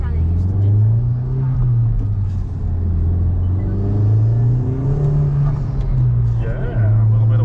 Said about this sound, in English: Yeah, a little bit of wheel spin there.